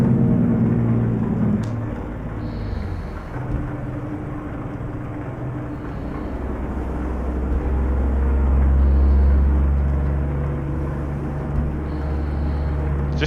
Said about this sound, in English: The J-brake sounds amazing on this truck.